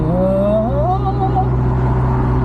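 A Honda CRX 1.6 with a D16A9 engine revs hard while driving, its engine note climbing steeply in pitch over a steady low road drone. The sound is close and loud throughout.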